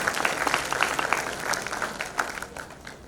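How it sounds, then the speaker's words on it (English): An audience applauds at an AEG convocation ceremony in 2022, a steady wash of many hands clapping at moderate distance that holds for the whole span with a few sharper individual claps standing out. "A very big round of applause for him."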